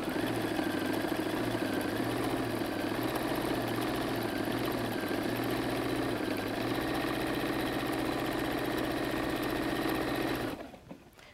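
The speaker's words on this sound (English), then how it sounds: "My all-time favorite stitch on a sewing machine is the triple zigzag." Sewing machine running steadily while sewing a triple zigzag stitch along the edge of a messenger bag, a close, continuous mechanical whir with rapid needle rhythm for about ten seconds before stopping abruptly.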